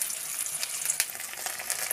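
Black cumin seeds and green chillies sizzle in hot oil in a steady, hissing crackle with small pops. The sound is moderately loud and continuous over its brief length, with no voices.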